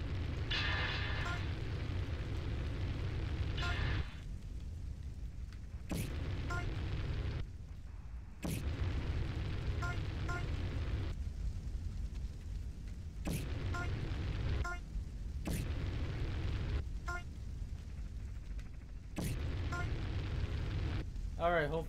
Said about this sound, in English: hopefully we don't die because of the explosion